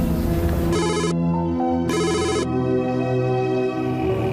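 During an outgoing call, an electronic ringback tone plays in two short repeated bursts over a steady background hum.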